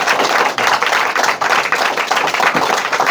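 A group of people clap together at a coaching gathering, the dense patter of hands steady and fairly loud throughout with no talking over it.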